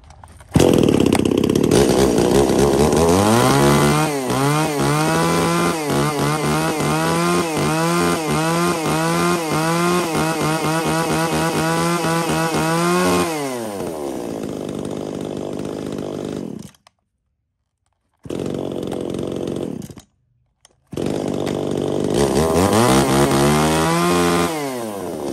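Used Japanese T5 chainsaw engine running loud and close, revving up and down repeatedly in rhythmic surges, then idling before brief cutouts and a restart.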